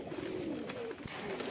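Pigeons coo softly and repeatedly in a loft, a low rolling murmur over steady background ambience with a faint flutter or tap partway through.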